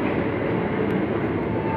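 KRL commuter train pulling out of Depok Baru station toward Bogor, heard from inside as a steady, dense rumble of running gear and carriage noise that stays even and loud throughout.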